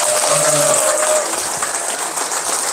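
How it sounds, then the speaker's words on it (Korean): Seminar audience applause for the chairman rolls on as a sustained, fairly loud wash of clapping that eases slightly toward the end. "지금까지 예수 보여주신 우리 전영철 회장님께 다시 한번 큰 박수 한번 드립니다"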